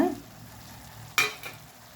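Amaranth greens stir-fry with grated coconut being stirred in a pan, a faint low sizzle with one sharp scrape of the spoon and a softer second scrape near the end.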